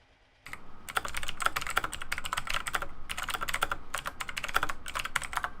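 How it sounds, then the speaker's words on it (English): Typing on a computer keyboard picked up by a sensitive microphone, rapid bursts of close key clicks in uneven clusters with short pauses, starting abruptly after a brief silence. "Sorry about the typing, guys"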